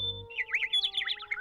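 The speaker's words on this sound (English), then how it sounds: "That's the mudlark, and not one, but a pair." A pair of mudlarks calling outdoors, a quick run of bright, clear chirping notes that overlap in a busy warbling pattern, close and moderately loud with no talk over it.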